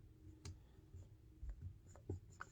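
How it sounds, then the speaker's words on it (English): Soft pen-on-paper scratching of handwriting, faint and close, with irregular short strokes and small pauses between them. "let me just write that real quick."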